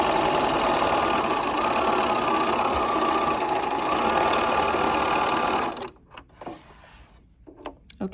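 Sewing machine stitching quilt block pieces, a fast steady mechanical whir running continuously for several seconds before stopping, followed by a few soft handling clicks and rustles.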